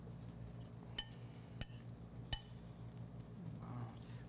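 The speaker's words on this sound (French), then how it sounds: "je mélange tout ça bien comme il faut" Vegetarian ingredients being mixed with olive oil, probably a small salad, with three soft utensil clinks over a quiet, low background hum.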